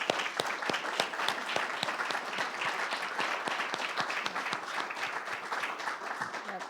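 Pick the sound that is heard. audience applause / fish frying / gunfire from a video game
audience applause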